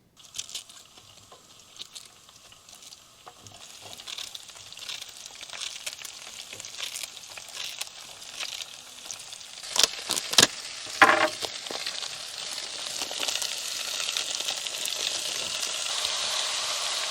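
Bacon, courgettes, cauliflower and broccoli stir-frying in a pan: a continuous close sizzle that builds steadily louder, broken by a few clattering stirs of a utensil partway through, no talking.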